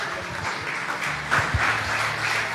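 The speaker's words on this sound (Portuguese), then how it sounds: "Vamos aplaudir ao Senhor" A church congregation applauds during a family conference, a dense, steady wash of clapping from a large room with a few louder claps standing out near the middle.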